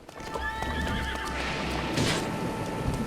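A horse neighs in the video game Breath of the Wild, a clear, drawn-out whinny close up over steady clip-clop hoofbeats and ambient game sound.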